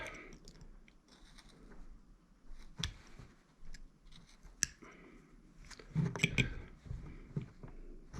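A whittling knife cuts into wood while a face is carved. Quiet, close scraping and slicing strokes come in short irregular bursts, with sharper clicks and a louder cluster of cuts toward the end.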